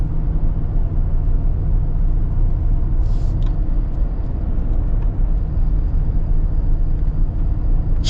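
A Mercedes G-Wagon 4x4 Squared on portal axles cruises along, its tire roar and low road rumble filling the cabin as a loud, even wash, with a couple of faint clicks partway through.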